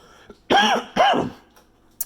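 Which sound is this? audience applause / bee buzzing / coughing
coughing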